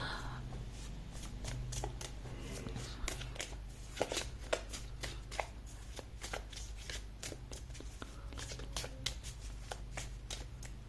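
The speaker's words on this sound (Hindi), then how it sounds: "Let's shuffle the cards with intention." Tarot cards are shuffled by hand in a quiet room, giving a close, steady run of soft riffling flutters and light slaps repeating throughout.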